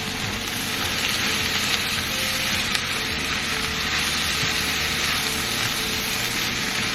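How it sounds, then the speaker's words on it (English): Sweet corn sizzling and frying in a pan with green onions and cilantro, a dense, steady hiss that carries on throughout with no one talking. "I'm just going to cook this for another minute and then we're ready to plate our sweet corn."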